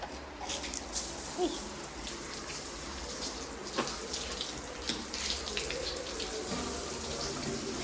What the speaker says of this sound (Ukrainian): Ось тут є такий душ